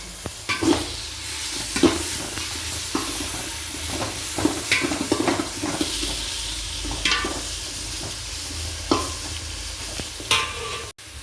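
Ginger and garlic sauté in a pan for a Sunday lunch, a continuous sizzle broken by repeated scraping stirs and clinks of a spoon, close and fairly loud with no talking.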